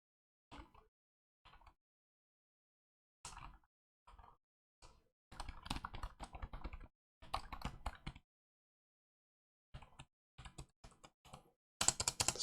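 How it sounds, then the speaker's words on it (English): Someone types on a Logitech K780 wireless multi-device keyboard, making short bursts of soft, close key clicks separated by pauses, with a denser flurry of keystrokes at the end. "So for those people that actually want to know what it sounds like when you're typing"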